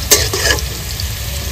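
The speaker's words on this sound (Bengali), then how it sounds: "এবার আমি ভেজে নেবো যে আগে থেকে ভিজিয়ে রেখেছিলাম কাজু কিশমিশ, এগুলো একসঙ্গে ভেজে নেব।" Soaked cashews and raisins hit hot oil in a pan with a brief stirring scrape, then settle into a steady, close sizzle.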